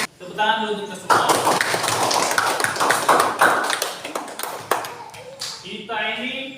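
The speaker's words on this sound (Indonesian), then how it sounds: "tepuk tangan dulu untuk semua." Claps from an audience in a classroom teacher-training session in Indonesia: a dense, steady burst of many hands for about four seconds, with a voice talking just before and after.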